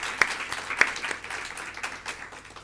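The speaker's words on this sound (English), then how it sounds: "another round of applause for our awardees" Audience applause at a university council awards dinner honouring awardees, a fairly faint, thin patter of clapping with a couple of sharper claps standing out near the start.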